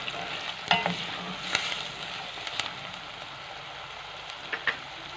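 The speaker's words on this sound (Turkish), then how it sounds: "Sonrasında da taze fasulyemizi koyacağız. İkisi birlikte hafiften şöyle bir kavrulacaklar." Fresh green beans sautéing with onion and vegetables for a summer stew, giving a soft continuous sizzle with faint stirring scrapes and a few brief clicks of a utensil against the pan, no talking.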